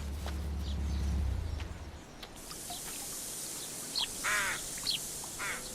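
Rooks give several short, harsh caws toward the end, moderately close, after a low rumbling start, over steady outdoor background noise.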